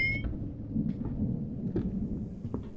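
Low rumbling thunder rolls continuously through a stormy night in a scary video game, a deep steady bed of noise with a few faint high blips and ticks scattered over it.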